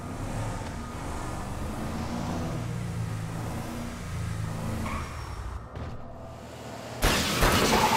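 Car engine accelerating in GTA V, a mid-pitched motor revving steadily as the vehicle drives, with a louder burst of noise near the end.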